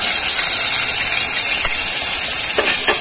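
Garlic, onion and green chili paste dropped into a hot pan of fried tomatoes, giving a loud, steady steam hiss and sizzle with a few faint clinks.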